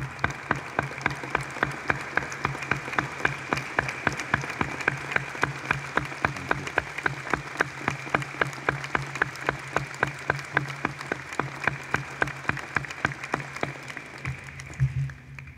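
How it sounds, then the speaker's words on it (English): An audience applauds veterans at a veterans' ceremony: dense, sustained clapping from a large crowd, steady and fairly loud throughout, easing off near the end. "If you can stand, please stand and let us applaud our veterans."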